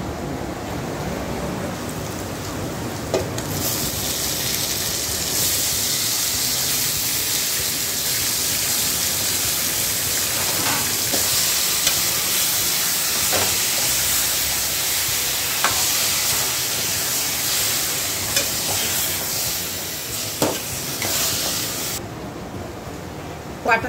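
Vegetables hit a hot pan while cooking white chicken curry, a steady broadband sizzle filling the whole stretch with occasional clinks of a spoon stirring, continuous and close, fading abruptly near the end.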